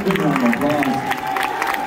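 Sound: audience applause at hypnotist comedy show

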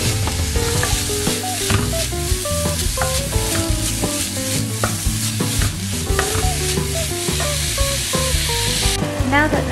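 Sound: minced meat browning and sizzling in a frying pan

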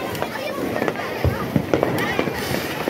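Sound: Diwali fireworks / firecrackers going off

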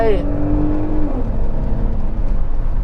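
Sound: Porsche Cayenne V6 engine revving

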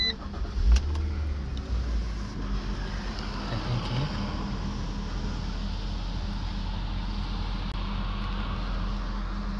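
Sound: car engine starting

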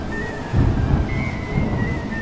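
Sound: thunderstorm with thunder and rain in the video game Smalland

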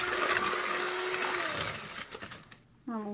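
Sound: electric mixer creaming butter with salt for cake

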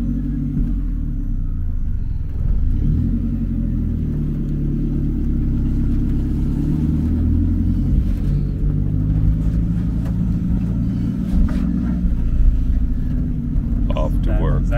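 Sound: riding in the back of a small truck

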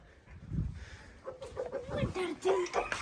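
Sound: chicken clucking while being caught

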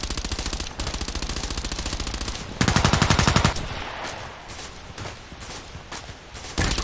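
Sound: gunfire in video game Contract Wars

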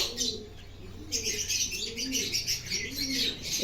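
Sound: pigeons cooing

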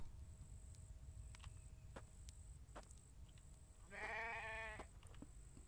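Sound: sheep in a video game

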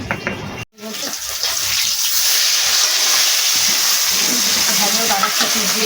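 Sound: tap water running while washing fish

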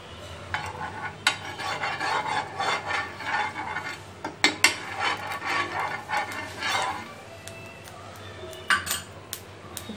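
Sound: mixing besan cheela batter

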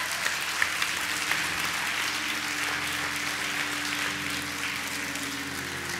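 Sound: congregation hand clap of praise

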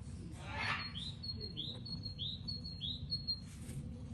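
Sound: birds

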